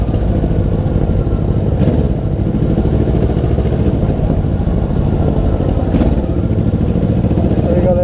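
Kawasaki Vulcan 650 S motorcycle riding through the busy tourist town of Serra Negra on a holiday, a continuous close engine drone mixed with wind rumble and no break throughout.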